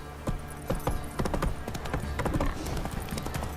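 Hooves clip-clop in a quick, steady gallop as a horse runs in The Witcher 3: Wild Hunt, close and continuous, with a rider's voice briefly urging it on.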